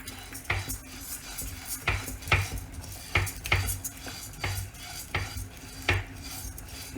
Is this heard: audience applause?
no